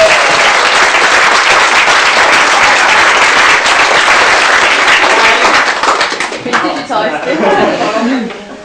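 A convention audience at a closing ceremony gives sustained, loud applause for the technical crew, dense clapping holding steady for several seconds before thinning and fading out near the end.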